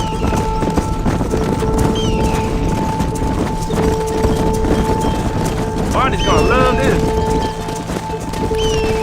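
Horse hooves clip-clop steadily while herding cattle in the video game Red Dead Redemption, with a horse whinnying midway and game dialogue talking over the hoofbeats.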